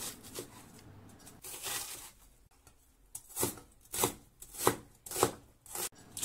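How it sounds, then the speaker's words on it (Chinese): A knife chops an onion into chunks on a cutting board, with close, crisp, rhythmic strokes that come in a loose run first and then fall into a steady beat of about one chop a second, with no talking. "洋葱切成块。"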